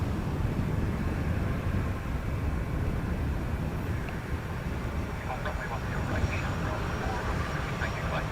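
An Airbus A320-200 departs Dublin Airport, its engines making a steady, broad roar that holds at an even level throughout.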